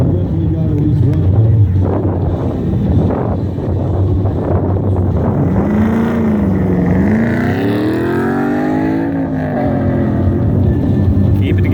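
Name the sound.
pro touring truck driving an autocross course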